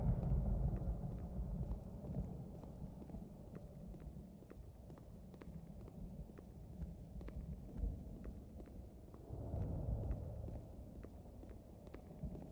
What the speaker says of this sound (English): Even though that's thunder.